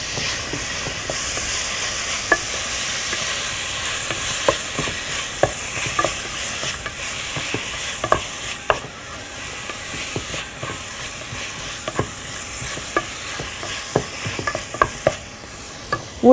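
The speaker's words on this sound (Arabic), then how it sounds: "ونقلب." Colored bell peppers are stirred in a hot pan while making herring with mustard sauce, producing a constant loud sizzle with regular scraping taps of a utensil against the pan, and no voices.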